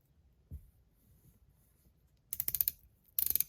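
A titanium Top C fidget toy from Metal Toys DZ clicking up close, one soft knock followed by two quick rhythmic bursts of sharp metallic ratchet-like clicks in a quiet room.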